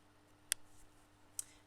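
A computer mouse gives two faint, crisp left clicks about a second apart in an otherwise quiet room with a low hum.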